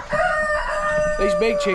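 Chickens and bantams cluck and squawk close by, with a rooster-like crow and layered calls from several birds overlapping through the short stretch.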